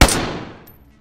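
A single loud gunshot in the survival video game DayZ, a sharp close crack with a reverberant tail fading out over about a second, with no talk.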